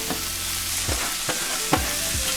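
Chopped cilantro tossed into a pan of green shakshuka, the food sizzling steadily while a utensil scrapes and stirs several times in a slow rhythm.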